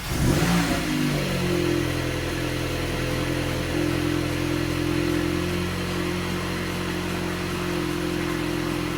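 A VW MK8 Golf GTI with a stage 3 PMAX turbo and Unitronic downpipe fires up for the first time, cranking into a loud, steady idle that holds close and continuous with no talk.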